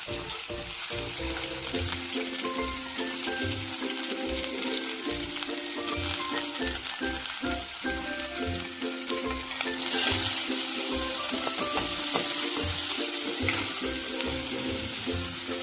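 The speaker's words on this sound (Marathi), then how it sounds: "कढईत कांदा परतायला टाकून" Chopped onion fries in hot oil in a wok, a loud, steady sizzle with scraping stirring strokes throughout, some soft tonal background sound underneath and no talking.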